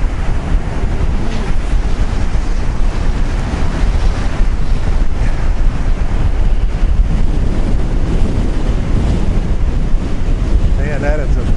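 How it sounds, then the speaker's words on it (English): Rough Pacific Ocean surf on a winter storm day, heard from a clifftop, roars steadily and loudly with heavy wind buffeting the microphone throughout and no lulls. "Man, that is a vicious ocean today."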